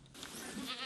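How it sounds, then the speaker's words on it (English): A herd of goats walks through hills in Ecuador. One brief, faint bleat sounds at a distance, less than a second long. "The goats walk daily through these hills."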